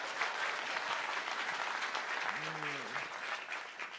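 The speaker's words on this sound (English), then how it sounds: "So a round of applause for our first comer here." A forum audience applauds a first-time stage participant with dense, steady clapping from a full room, continuous for the whole stretch, with a brief voice sound briefly surfacing partway through.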